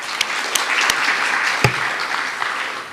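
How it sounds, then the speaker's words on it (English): An audience at the Bharat Legal Conclave and National Legal Excellence Awards applauding, a full, even burst of clapping with a few sharp louder claps standing out, lasting about three seconds. "Can we all start with a round of applause?"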